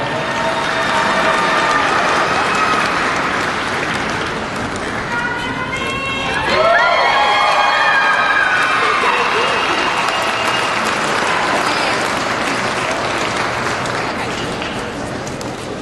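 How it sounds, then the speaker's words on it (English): Crowd in the show arena at the 2015 National Western Stock Show in Denver applauds and cheers the grand champion market lamb, loud sustained clapping with a brief announcer-like voice and whistling tones mixed in midway. "Let's give him another big round of applause."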